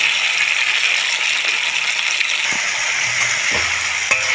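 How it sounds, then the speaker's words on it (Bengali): Peas and tomatoes fry in a pan with a steady broadband sizzle throughout, a few soft clinks and scrapes near the end, no voices. "মটরশুঁটিটা একটু ভেজে নেবো টমেটোর সঙ্গে"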